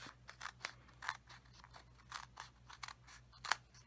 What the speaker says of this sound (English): I'm going to cut a row of dimensionals right in